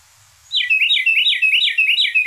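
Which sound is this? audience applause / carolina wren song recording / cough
carolina wren song recording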